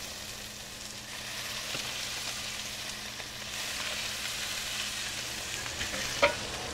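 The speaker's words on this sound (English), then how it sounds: "Bring this over and throw it straight in with the onions." Pierogi tumbling into a pot of onions and butter, a steady broad sizzle with stirring scrapes throughout and a sharp clack near the end, no voices.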